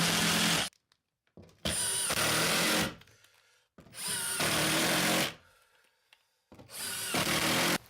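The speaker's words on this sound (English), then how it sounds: "as you put these screws into this concrete board, you're going to have some debris that comes out of the hole." Power drill driving screws into cement board during a bathroom remodel, four loud close bursts of whirring each lasting about a second, separated by short pauses.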